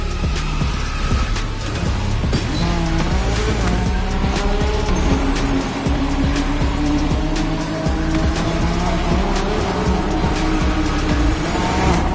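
A car drifts in The Crew Motorfest, its engine roaring loud and close under sustained, wavering tire squeal that slides up and down in pitch throughout, with no voices.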